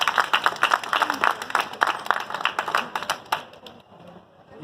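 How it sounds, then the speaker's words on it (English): A brief round of audience clapping at a public gathering in Leicester, steady and fairly close for a few seconds before tapering off near the end. "Quick round of applause."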